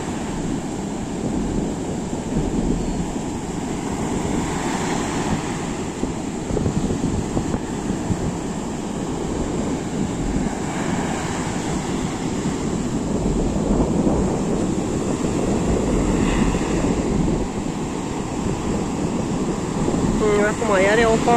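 Strong wind buffets the microphone on the beach at Eforie Nord in October, with sea waves surging and rumbling steadily underneath, loud and continuous throughout.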